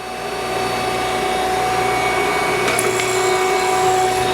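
A TOS Hostivar 11" x 25" universal cylindrical grinder hums steadily while its table traverses back and forth in plunge mode, a continuous mechanical whine with faint tonal ringing and a couple of brief clicks.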